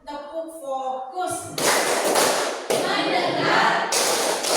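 A classroom clapping routine in an Indonesian lesson, opening with a teacher's chanting voice, then bursts of group clapping and thumping in rhythmic blocks, loud and close, mixed with voices.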